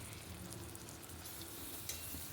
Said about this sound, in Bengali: আদা রসুন বাটাটা দিয়ে ভালো করে ভেজে নিচ্ছি